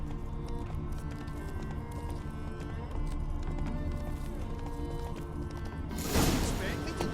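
Hoofbeats from Geralt's horse Roach in The Witcher 3 clop along under a steady musical background, then a loud, sharp crash bursts in near the end.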